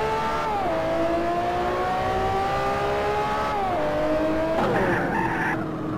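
A car speeding in GTA San Andreas, its engine droning steadily as it shifts pitch twice, then tires screech briefly near the end.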